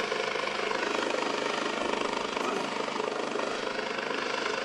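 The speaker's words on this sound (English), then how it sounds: "The life flight helicopter, they're going to wait till it gets up in the air" A life flight helicopter lifts off near a high school football field, its loud rotor chop and turbine whine filling the air steadily and close by, with no voices.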